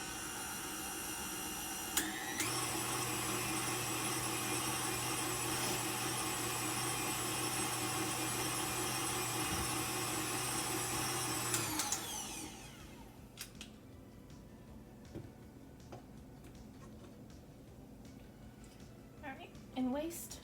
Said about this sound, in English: so let's mix that again. Always lock in your mixer.